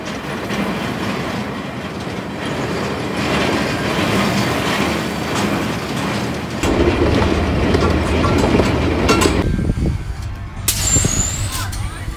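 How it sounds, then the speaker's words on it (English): A Western-themed theme park train at Tayto Park rumbles steadily along with clattering wheels and rail noise, joined later by a high squeal and brake hiss, with people talking faintly underneath. "Very Western themed train here."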